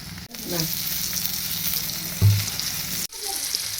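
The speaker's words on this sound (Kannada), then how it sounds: "ಎಣ್ಣೆ ಫುಲ್ ಅಂದ್ರೆ ಫುಲ್ ಬಿಸಿ ಆಗೈತೆ ರೀ ಒಂದೊಂದು ಮೀನ ಈ ರೀತಿ ಹಚ್ಕೊಂಬಿಡೋಣ್ರಿ" Fish pieces frying in very hot oil give a steady, close sizzle, with a louder hiss when another piece goes into the pan. There is a short break near the end of the clip.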